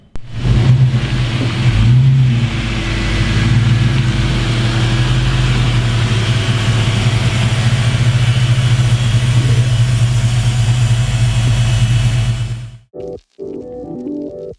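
An LS V8 swapped into a 1964 Chevy C10 short bed pickup runs with a loud, steady, deep rumble and slight rev swells, then cuts off abruptly near the end, with no talking.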